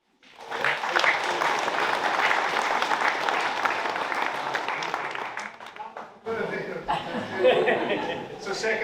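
Audience applause at a Tasmania Fire Service 4X4 competition awards announcement, steady dense clapping mixed with chuckles and laughter for several seconds, a brief dip, then a renewed burst of clapping and crowd noise.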